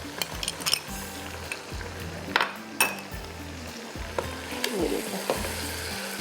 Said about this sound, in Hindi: बस इसको थोड़ा सा भूनते हैं।